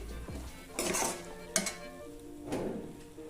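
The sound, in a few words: mixing chopped vegetables in a cooking pan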